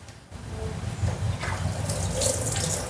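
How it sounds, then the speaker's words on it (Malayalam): Tap water runs steadily into a sink while fresh crabs are rinsed and scrubbed clean with a new brush for a homestyle crab curry, a continuous close splashing rush that grows slightly louder, with no talking. "നമ്മൾ പുതിയ ബ്രഷ് വെച്ചിട്ട് നന്നായിട്ട് തേച്ച് കഴുകി വേണം ഇത് വൃത്തിയാക്കാൻ"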